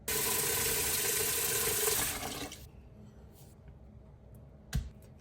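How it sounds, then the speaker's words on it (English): Water pours steadily into a soup pot holding cow tongue, spices and vegetables, a loud continuous rush that cuts off after about two seconds, followed by quiet with a single faint knock. "Then we're just gonna cover all this up with water."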